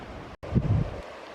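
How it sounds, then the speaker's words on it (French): Low rumbling wash of wind and surf on a falling tide with strengthening waves, a brief cutout near the start, then a swelling roar that eases off toward the end. "La marée est descendante, mais les vagues ont forci. Puis le vent aussi."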